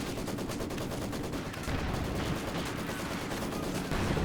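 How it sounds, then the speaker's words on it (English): Artillery barrage in the Company of Heroes 2 video game: dense, continuous rumbling blasts and rapid gunfire layered together, loud and sustained throughout with no talk. "There's this barrage."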